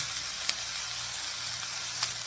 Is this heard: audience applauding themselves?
no